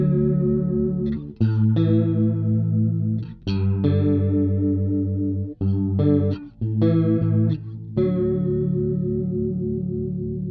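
Bass guitar run through an MXR M83 Bass Chorus Deluxe pedal with the rate set fast, sustained notes and chords warbling with a quick shimmering chorus, played loud and close with short breaks between phrases.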